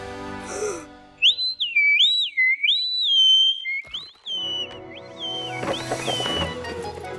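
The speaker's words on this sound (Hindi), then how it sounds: "डायनो रेंच की सीटी।" A cartoon Dino Ranch whistle is blown to call dinosaurs, giving a loud, high, warbling tone that rises and falls in several looping trills, followed by a clatter and more whistling over busy animated sound effects.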